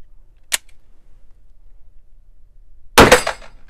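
Shots from a Canik SFX Mete pistol at a steel target: a brief sharp crack early on, then a louder, close blast with a short ringing metallic decay, otherwise quiet.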